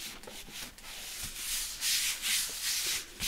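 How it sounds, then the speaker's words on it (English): Paper being rubbed down firmly by hand over a magnet in a mini album junk journal, a continuous close scratchy swishing with rising and falling strokes. "Rub down, rub over where the magnet is"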